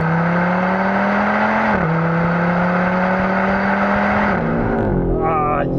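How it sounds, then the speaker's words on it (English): Loud, sustained five-cylinder exhaust howl from a 2025 Audi RS 3's 2.5-litre 400 hp engine, pitch climbing through the gears with distinct drops at each shift before easing off at the end. "That sweet, sweet exhaust note."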